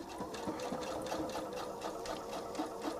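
Close sewing machine running at a steady pace while tying off a stitch in fabric, with a rapid, even mechanical chatter and no talking.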